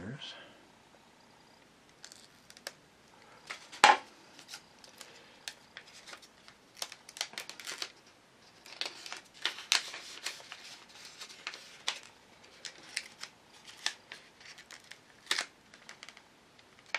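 Scissors snip paper while a paper Klein bottle model is assembled with tape, producing quiet, close, irregular crisp cuts and rustles, with a sharper handling noise early on.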